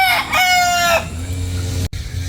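A rooster crows once, loud and close, a long rising-then-held call lasting about a second, followed by quieter background noise.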